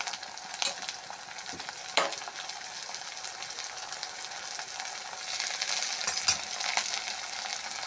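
Ground spice paste with ginger, chili, cumin, turmeric and salt frying for lentil paturi: a steady close sizzle runs throughout, broken by a few sharp scrapes and taps of stirring, growing slightly louder toward the end.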